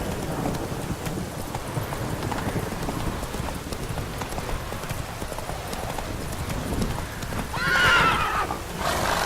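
Horse galloping in The Witcher 3 video game, rapid hoofbeats thudding steadily and close, with a brief whinny near the end and light rain-like ambience underneath.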